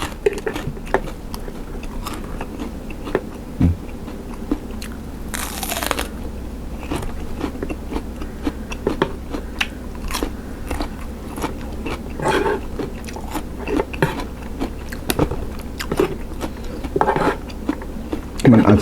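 Crisp, crunchy bites of freshly fried pork crackling, eaten up close as a steady run of sharp crackles and chews over a low background hum, with a brief hiss partway through.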